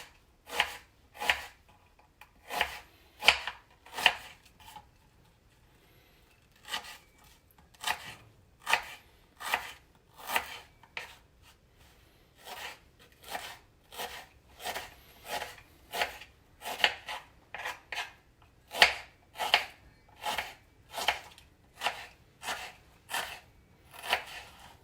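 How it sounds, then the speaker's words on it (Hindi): A knife slices an onion lengthwise on a cutting board, giving crisp, close chopping strokes in irregular bursts and pairs, repeated steadily throughout with no talk. "सो अब करेले के लिए हम प्याज काट लेते हैं और इसको बस ऐसे ही लंबा लंबा स्लाइस करना है"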